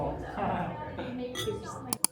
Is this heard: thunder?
no